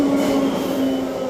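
A passenger train in Perth runs on its rails with a loud, steady rumble and a sustained tonal whine, heard from close by with no talking.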